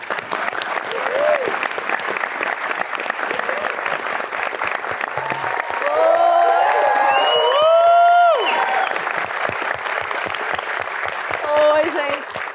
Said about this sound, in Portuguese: recebam com uma salva de palmas Nilce Moreto